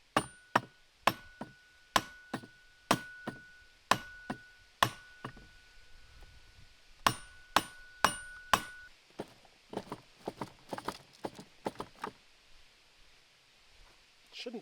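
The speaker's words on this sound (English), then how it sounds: "I'm trying to be gentle with my mallet" Sharp mallet strikes on metal while fitting a tight part of a Woodland Mills HM136MAX sawmill cutting head, about twenty in an irregular rhythm with short pauses, some ringing with a faint metallic tone, close and fairly loud.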